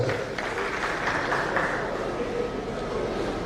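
An audience at an Edo State government stakeholders' engagement applauds a special advisor, a dense, muffled wash of clapping that holds steady for a few seconds amid a busy hall.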